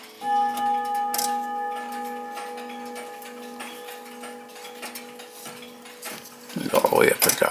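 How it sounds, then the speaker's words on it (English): A Ridgeway grandfather clock sounds its Westminster chime, sustained ringing tones held close and steady, followed by handling clatter and rustling near the end. "Westminster chime."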